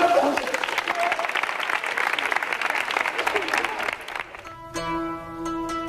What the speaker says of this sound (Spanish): Una, dos y tres. ¡Quiero un aplauso!